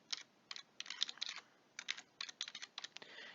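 Rapid bursts of keystrokes clatter on a computer keyboard, close and clear, in uneven clusters separated by short pauses, with no voices.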